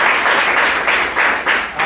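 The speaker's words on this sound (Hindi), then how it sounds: "एक बार जोर तालियां प्रिंस सैनी जी के लिए" Crowd applause at a business plan presentation event welcoming a speaker to the stage, loud continuous clapping swelling in waves.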